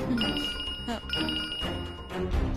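A telephone rings in a real estate office in a Tamil TV drama, its steady electronic ringing repeating loudly over a busy background of other sounds.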